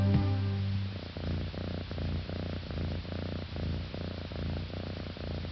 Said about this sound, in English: The cat's purr is one of nature's most soothing sounds